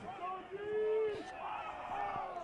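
Football crowd in the stands at a Hudson Raiders high school game against Green Bay Preble, a broad cheering roar swelling and easing under a commentator's voice.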